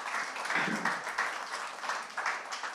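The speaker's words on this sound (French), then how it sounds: "je vais peut-être demander au public de vous applaudir avec abondance exactement" Audience applause at a French-language workshop on waste as a resource and European regulation, a steady, moderately distant wash of many hands clapping that holds at an even level throughout.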